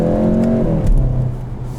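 2020 Volkswagen Golf GTI S with DSG gearbox accelerating at lower revs, engine drone rising steadily, then a smooth gear change dropping the pitch before it climbs again, heard from inside the cabin.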